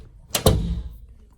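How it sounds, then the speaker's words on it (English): A door fitted with a Yale tubular latch swings shut, giving a quick double click of the latch and then a soft thud, close and brief in a quiet room. "when you close the door, shuts quite nice"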